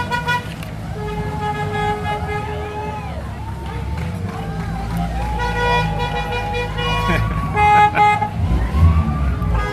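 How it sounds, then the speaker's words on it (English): Vehicles in the Edmond LibertyFest parade honk their horns in repeated toots and longer blasts over rumbling engines and a crowd murmur, moderately loud and near. "they just kind of honk"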